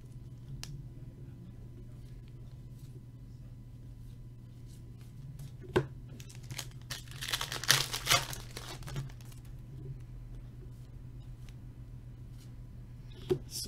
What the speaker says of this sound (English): I should rip through these packs then.